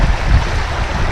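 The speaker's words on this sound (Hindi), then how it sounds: "पानी ग्रीन हाउस से गुजरता हुआ" Cyclone floodwater surging through a flooded greenhouse on a farm, a loud, steady broadband rush of flowing water close by with no voices.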